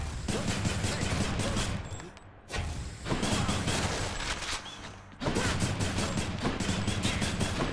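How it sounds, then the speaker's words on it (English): Rapid bursts of weapon fire in the Hades video game, loud clustered volleys broken by brief pauses, close and continuous, with some talk mixed in. "You fire 2 shots in quick succession after dashing"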